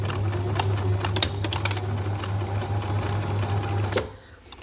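A sewing machine stitches fabric applique with a fast, steady mechanical whir and clatter, ticking rhythmically at close range for about four seconds before stopping abruptly into near silence.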